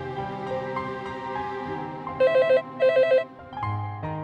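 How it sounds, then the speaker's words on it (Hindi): A telephone rings in two short bursts of rapid trilling tones over background music. "मिहिर फोन पर।"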